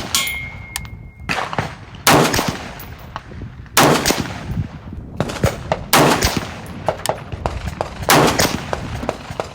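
A Daniel Defense M4A1 Block II rifle fires 55-grain Gold Dot duty ammunition on a range, sharp loud reports in an irregular string of single shots, some close together, ringing with brief metallic echoes.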